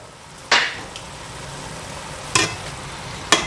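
Broccoli rabe in a pan with white wine, salt and black pepper being mixed, three sharp scrapes or clacks of the utensil against the pan over a low steady background, close, no voices.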